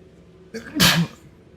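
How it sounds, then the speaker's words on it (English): A single sharp sneeze up close during a Hogwarts Legacy gameplay stream, preceded by a short sharp inhale, then quiet. "I did not mean to sneeze"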